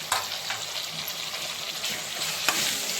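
Chopped tomatoes are frying in a pan for prawn biryani, a continuous close sizzle with intermittent stirring scrapes and a couple of sharper clacks of a spoon against the pan, with no voices.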